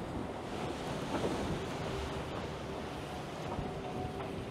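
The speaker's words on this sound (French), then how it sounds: "Il y a du vent de sud là." Wind at sea from the south, blowing steadily aboard an offshore racing boat in the Arkea Ultim Challenge, a constant broadband rush with wave wash beneath and no voices.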